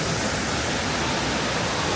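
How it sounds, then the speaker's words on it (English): Waterfall at Disney's Animal Kingdom park, a dense, steady broadband rush of falling water close by that fills the whole moment, unbroken and loud, with no voices over it. "Waterfall."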